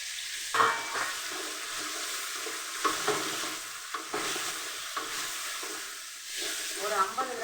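Garlic and spinach sizzle and fry in hot oil for a South Indian greens kuzhambu, with steady close hissing punctuated by stirring scrapes and a few louder crackles, no talking.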